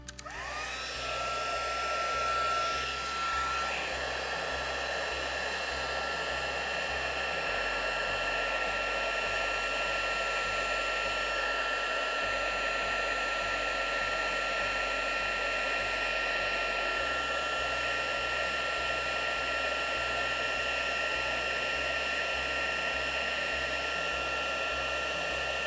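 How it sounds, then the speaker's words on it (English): A heat gun blows steadily to dry embossing powder, a continuous close whirring hiss that holds at a steady level for the whole stretch with no talk. "Let's get our heat gun going."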